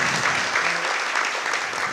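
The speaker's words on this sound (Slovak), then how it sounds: "Andrej, ten potlesk si zasloužíte" Audience applause after a talk, a dense, steady clapping from a full room, loud and continuous for the whole stretch.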